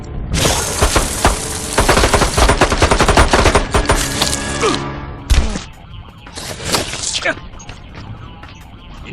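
Pistol gunfire in the Mortal Kombat 9 video game: loud, dense bursts of rapid shots with shattering impacts over the first five seconds, then a few scattered shots and crashes. No talk is heard during the shooting.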